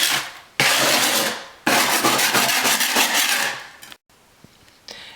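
A scraper drags hard across a wooden subfloor to knock down high spots, in two long, loud rasping strokes with a short pause between them, then a few lighter scrapes near the end.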